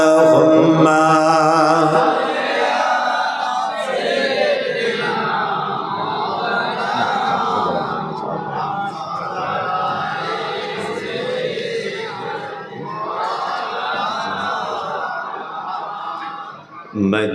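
Large religious gathering answering a takbir call: a loud crowd roar of many voices shouting together, swelling and holding for several seconds before tailing off, with a chant-like opening and a brief sharp burst at the very end.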